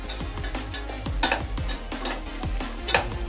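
Chili powder and tomatoes being stirred in a pan on the stove for avarakkai variety rice, with repeated spatula scrapes and clinks against the pan over a steady low sizzle.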